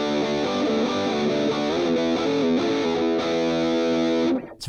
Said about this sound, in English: it has this sort of, this great like 80s metal sound